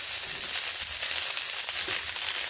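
Boiled chow mein noodles tumbling into a pan of frying onions, with a steady close hiss of sizzling oil throughout and faint stirring scrapes, no voices.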